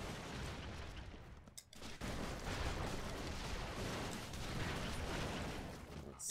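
Gunfire in Broforce crackles as dense, continuous bursts of rapid shots and booms, loud and close, with a brief lull near the start before the barrage resumes.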